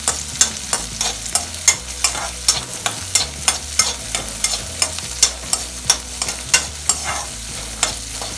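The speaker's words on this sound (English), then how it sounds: "Now mix this perfectly until the rawness of spring onions goes." A spoon stirs spring onions in a frying pan for saagu, and each pass lands as a regular rhythmic scrape over a soft sizzle. The strokes repeat steadily and close by, with no talking.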